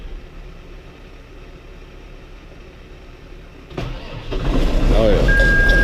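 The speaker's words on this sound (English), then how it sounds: "See if it'll crank." A blue tractor's diesel engine with glow plugs on cranks under a low background rumble, then catches and rises into a louder, steady running roar nearby.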